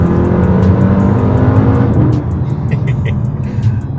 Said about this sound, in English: as soon as your foot's down, your valves are open, so you get all the noise